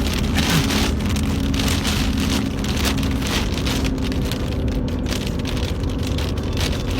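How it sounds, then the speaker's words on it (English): Dense pattering of a swarm of bugs striking a car windshield like heavy rain, a steady loud drumming that fills the whole stretch with no talk over it. "It is literally raining bugs."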